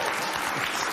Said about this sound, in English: They're clapping right now.